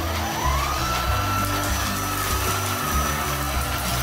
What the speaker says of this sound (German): jetzt schauen wir mal, wie der Staubsauger hier auf dem Fliesen saugt